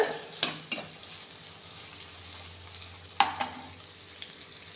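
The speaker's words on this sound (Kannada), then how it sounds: "ಸ್ವಲ್ಪ ಫ್ರೈ ಮಾಡ್ಕೊಳ್ಳೋಣ" Methi leaves and egg fry in a pan with a soft, steady sizzle, broken by a few sharp scrapes and knocks of a spatula stirring the mixture.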